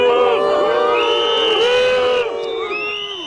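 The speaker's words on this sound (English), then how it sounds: "Factory workers whose jobs are under threat booed Mr. Macron" A crowd of factory workers whose jobs are under threat jeers and boos Macron, loud sustained voices overlapping in a dense, chanting roar that eases slightly near the end.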